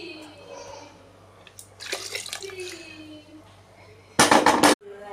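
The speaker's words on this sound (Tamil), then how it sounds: "அந்த தண்ணி இருக்குங்க, அதையும் எடுத்து இதில் ஊற்றிட்டு போகிறாங்க." Cooking water from boiled mushrooms poured into a pot for mushroom rice, a short loud splashing burst near the end after quieter kitchen clatter and faint background talk.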